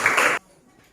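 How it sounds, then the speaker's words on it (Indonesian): A class of students gives a short, loud burst of clapping that cuts off abruptly, leaving near silence. "tepuk tangan dulu"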